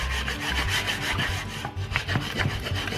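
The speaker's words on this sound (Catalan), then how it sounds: "Hem de remoure a la vegada que movem la cassola." A spoon stirs shrimp risotto with pieces of butter while the pan is shaken, giving steady rhythmic scraping and rubbing throughout, fairly close, with no talking.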